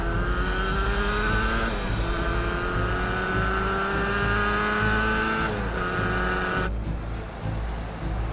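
A protection team's vehicle pulls away in a film scene. The engine climbs in pitch through several loud, close revs with gear changes, then cuts off abruptly near the end.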